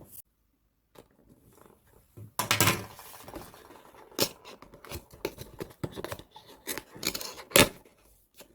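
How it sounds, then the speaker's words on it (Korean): A cardboard package box is torn open by hand nearby, with scraping, ripping and crinkling bursts of varying loudness spread across the clip after a quiet opening moment. "그러면은 이제 한번 뜯어볼게요"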